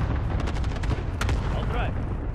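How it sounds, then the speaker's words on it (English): Cluster strike explosions in Call of Duty: Modern Warfare rumble and crack in a rapid series of booms, loud and close over a continuous low roar, with game voice chatter mixed in. "Cluster strike away."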